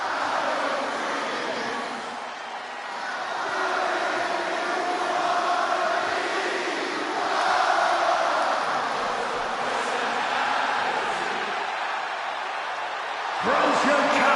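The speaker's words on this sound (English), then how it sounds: "Just listen to this ovation for the Second City Saint." Crowd ovation in the WWE 2K26 wrestling video game as CM Punk is introduced before his hometown Chicago crowd, a sustained, dense roar and cheering that swells and holds throughout.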